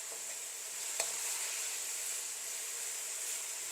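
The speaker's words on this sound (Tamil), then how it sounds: "இந்த எண்ணெயிலே கொஞ்சம் நல்லா வதங்கணும்" Kohila tuber stems sautéing in oil give a soft, continuous sizzling hiss, fairly faint and steady, with a single light tap of a utensil early on.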